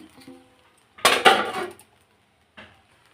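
Pieces of hilsa fish drop into a pot of pulao with a brief, loud clatter of metal and utensils, followed a moment later by a single softer clink.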